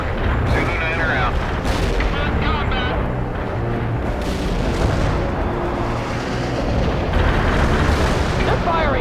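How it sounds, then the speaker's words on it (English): Battlefield artillery barrage in the World in Conflict game, a dense continuous rumble of booming blasts and crackling fire throughout, loud and close, with radio-style voices talking over it. "Artillery barrage inbound."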